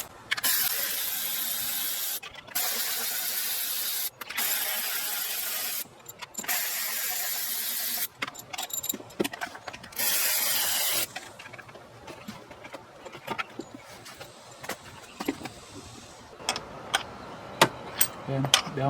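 A hand ratchet works on 13 mm bolts in a Chevy Camaro engine bay during a thermostat replacement, giving bursts of rapid clicking that alternate with loud hissing spells, followed by scattered metallic clicks and taps.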